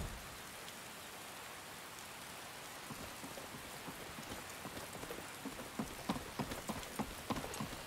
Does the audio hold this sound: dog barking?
no